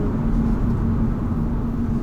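A steady low V6 engine drone from inside an Audi S4 TFSI quattro accelerating, a continuous rumble with a faint tonal hum that holds even throughout, no voices.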